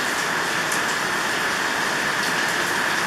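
Steady outdoor rain falls in a dense, even hiss that holds at the same loud level throughout, with no voices.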